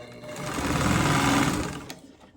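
A sewing machine stitches a quilt block seam in one continuous run, a fast close mechanical whir that swells, holds and then stops, with no talking.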